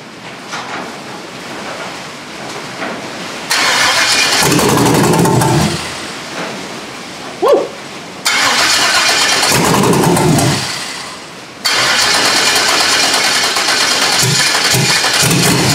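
An LS V8 fitted in a Foxbody Ford Mustang cranks and fires three times, each start a loud close roar that runs for a couple of seconds before dropping back, with quieter cranking and clunks in between.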